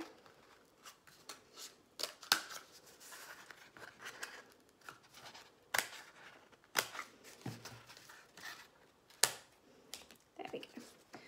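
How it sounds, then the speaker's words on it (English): Scissors that are not very sharp snip out a square from material in a series of irregular crisp cuts and crunches, close and fairly quiet, with no talking. "I haven't got the best scissors right now"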